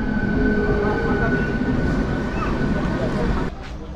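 Local Puri Passenger train pulling into platform 3 of a Kolkata station, a steady loud rumble of wheels and carriages with a faint squeal, cutting down suddenly near the end.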